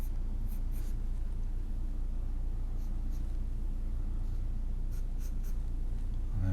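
A pencil scratches over paper while drawing a portrait, quick close strokes in a steady texture over a low constant hum.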